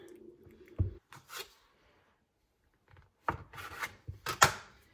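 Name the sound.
dough scraper cutting dough into equal portions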